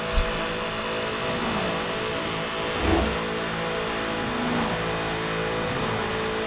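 A Mercedes-Benz CL65 races in Need for Speed: Hot Pursuit (2010), its engine a steady mid-pitched drone under game road noise, with a brief louder surge partway through.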